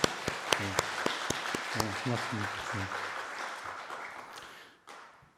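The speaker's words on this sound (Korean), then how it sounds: "우리 한번 박수 한번 하겠습니다" A church congregation breaks into applause, a dense wash of clapping with a few sharp individual claps, fading out after several seconds while someone speaks briefly over it.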